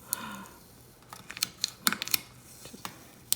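Vinyl decal being burnished onto a Halloween coffee cup by hand, giving a series of faint, irregular scraping and rubbing clicks, close and quiet, with no talk.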